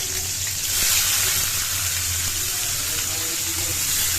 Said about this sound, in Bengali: কড়াইতে তেল দেওয়ার পরে দিয়ে দিয়েছি পেঁয়াজ কুচি